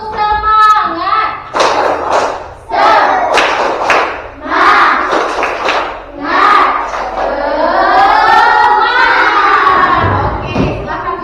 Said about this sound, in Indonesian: Kurang semangat, ulangi lagi. Tepuk semangat.